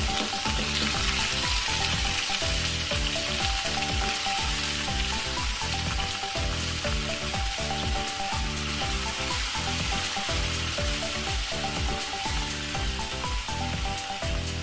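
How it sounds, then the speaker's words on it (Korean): Chicken pieces frying in a pan over medium heat for soy-sauce chicken bulgogi, a loud continuous sizzle with steady crackling throughout and no talking, a faint pulsing rhythm running underneath. "중불 정도의 불에서 천천히 노릇노릇하게 굽듯이 익혀주시면 됩니다"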